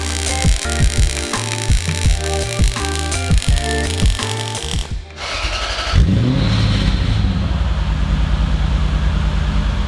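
A Lexus IS300 fitted with a 3UZ V8 engine, just after an exhaust leak repair, blips its throttle in a series of sharp revs that drop back, then holds a loud, steady, rumbling rev close by.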